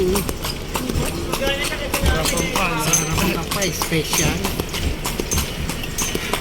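Horse hooves clip-clop steadily as a kalesa carriage rolls through Intramuros, with people chatting loudly over the rhythmic beats throughout.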